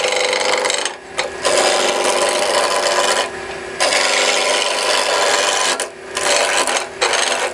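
Skew scraper cutting wood on a lathe, a loud continuous rasping scrape that keeps going for several seconds at a time, broken by short pauses and brief dips while the tool is lifted.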